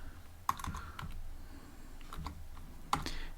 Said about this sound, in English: I'll type here def connect